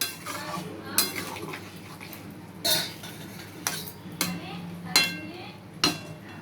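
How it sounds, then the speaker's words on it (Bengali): A spoon stirs curry in a metal cooking pot, giving sharp scraping clanks at irregular intervals, about seven strikes, close and fairly loud over a faint low background hiss. "নাড়িয়ে নেব, মিশিয়ে নেব ওর মধ্যে ভালো করে।"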